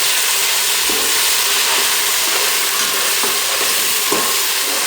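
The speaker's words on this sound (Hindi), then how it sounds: "इस स्टेज पर हम इसमें टमाटर और जो इमली थी वो शामिल कर देंगे।" Tomatoes and tamarind go into golden-brown fried onions for a Kabuli chana pulao, making a loud, dense, continuous sizzle up close with faint rhythmic stirring scrapes underneath.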